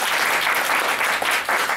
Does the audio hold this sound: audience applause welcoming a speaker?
yes